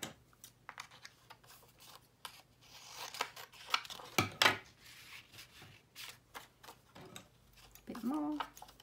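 Paper for a pink flamingo cluster tag folio is trimmed with scissors, giving a quiet run of crisp snips and paper rustles with pauses between them, and a voice is heard briefly near the end.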